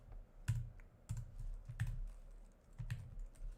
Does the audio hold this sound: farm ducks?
no